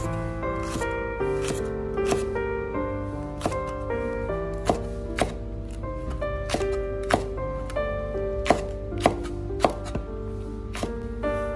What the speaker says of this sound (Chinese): 准备3个青椒，将青椒切成斜片，